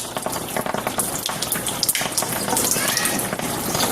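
Hydrogen antioxidant water fizzes with dense crackling and popping, countless tiny bubbles snapping in a close, continuous hiss.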